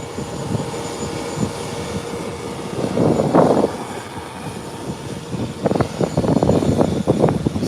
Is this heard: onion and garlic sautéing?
no